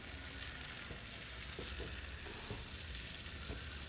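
Fish sizzling as it fries in a pan of hot oil, a steady broadband crackle with occasional soft pops and the clink of turning the fillets. No voices.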